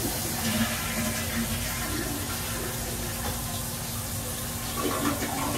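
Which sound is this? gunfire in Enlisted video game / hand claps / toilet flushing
toilet flushing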